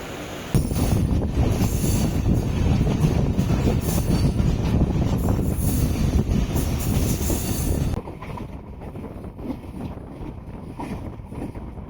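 A MEMU passenger train on the Chennai–Madurai route rolls along nearby with a loud rumbling roar and rattling wheels, then the noise drops abruptly to a quieter, muffled hum.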